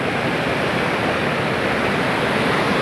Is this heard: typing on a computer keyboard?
no